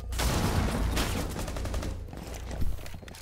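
Rapid bursts of gunfire from a tactical team shooter match, dense and loud for the whole stretch, with heavy low thumps and a sharper crack near the end.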